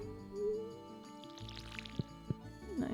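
Water is poured by hand onto a potted hops plant, a soft liquid trickle and pour with a couple of brief drips and splashes, close and quiet, with no talking.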